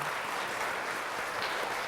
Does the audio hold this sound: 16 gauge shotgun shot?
no